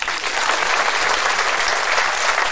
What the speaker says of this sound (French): Ok, on peut l'applaudir.